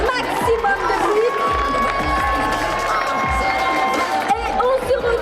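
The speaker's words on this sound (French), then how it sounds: "Je pense que vous pouvez vous applaudir une dernière fois, faire un maximum de bruit." A cosplay contest crowd at a geek convention cheers and claps, with loud overlapping shouts, whoops and clapping forming a busy wall of noise.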